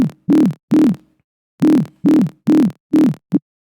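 A Serum synth dubstep patch built from a sine wave with sync modulated by an LFO, with a filter and reverb: a series of seven or eight short, punchy, wobbling tonal hits in a loose rhythm separated by silence, the last one shorter.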